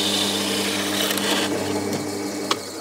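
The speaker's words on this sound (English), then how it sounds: "And when I'm happy, I can drill." A power drill bores a hole through a router template, a steady close whine with a tonal hum running throughout and a small knock near the end.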